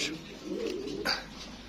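Pigeons for sale, including fancy breeds such as Beauty, Golden Sweet, King and Lahori, give a short, low coo close by. A quick sharper sound cuts in near the end of the brief moment.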